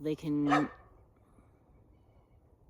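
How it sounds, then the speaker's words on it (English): A dog gives a short burst of a few close, loud barks at the start, followed by quiet room noise while someone speaks briefly. "excuse my dog."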